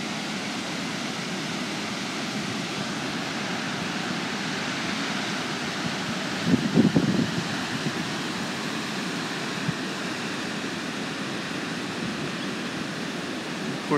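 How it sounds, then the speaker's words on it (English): Heavy water released through the Kaw Dam tainter gates pours into the Arkansas River with a steady, broadband roar that stays even throughout, with a brief louder surge midway. "there's quite a bit of water being released from Kaw Lake"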